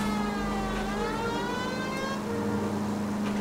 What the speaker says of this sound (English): if you have your siren on, everyone will get out of your way